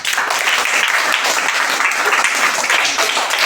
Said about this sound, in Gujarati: જોરદાર તાળીઓ પડે બધા